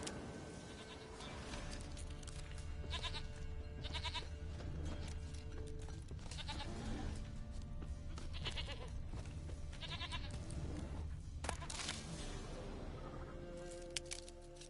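Goat bleating in the video game The Witcher 3, several drawn-out bleats repeating across the scene at close range over a steady ambient game background, with no speech.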